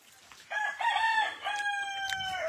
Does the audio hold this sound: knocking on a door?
no